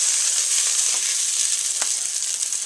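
Aromatic vegetables browning in a pot after a beef pot roast has been seared, giving off a steady, bright sizzle with a few soft stirring clicks over it.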